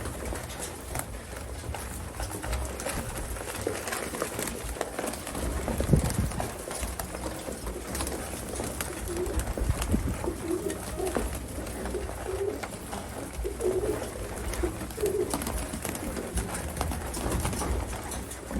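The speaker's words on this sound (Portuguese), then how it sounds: "Os pombos estão aí comendo," Racing pigeons cooing while they feed on a mix of corn and broken brick in a loft, a steady close murmur of coos with shuffling and pecking throughout, no talking.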